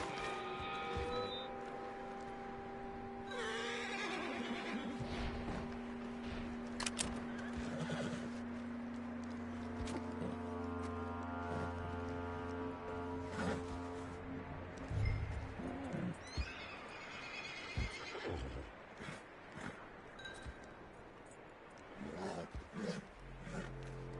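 A horse in a Red Dead-style western video game whinnies loudly and repeatedly over ambient game sounds, with hoof clip-clops, bird calls and music tones mixed in.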